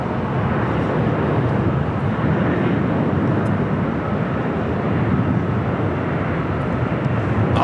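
Jet airliner at Los Angeles LAX airport, a loud, steady engine roar that holds constant and close throughout, with no talk over it.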